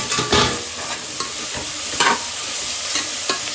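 Mint, coriander and green chili sauté in a pan, with a steady close sizzle broken by several short scraping stirs from a spoon, moderately loud and with no voices.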